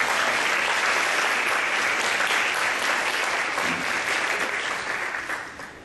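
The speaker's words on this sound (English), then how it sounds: "Let's give them a round of applause" A seated audience claps loudly and steadily for the employee campaign committee at a State of the Foundation gathering, the dense applause tapering off near the end.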